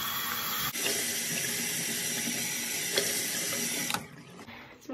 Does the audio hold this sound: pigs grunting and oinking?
no